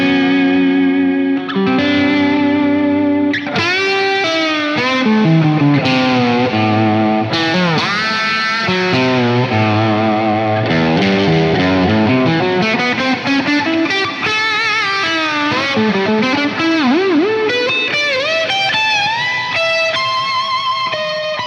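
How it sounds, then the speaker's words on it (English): Electric guitar through a Source Audio Ventris reverb pedal blending spring reverb with a swelling reverb: sustained, shimmering chords and notes that bloom in and wash together, loud and continuous with no talking. "Now I can have both the spring and that swell together"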